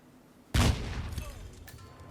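A sudden loud blast from an explosive accident kill triggered by a proximity micro taser in Hitman: World of Assassination, a single sharp boom that decays into a rumbling tail.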